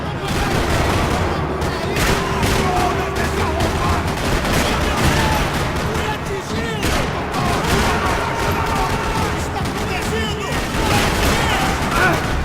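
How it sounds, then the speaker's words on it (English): Sustained gunfire rattles through a parking lot in the video game Max Payne 3, with dense overlapping bursts and shots that run loud and continuous for the whole stretch, mixed with some background voices. "Another parking lot rattling with gunfire."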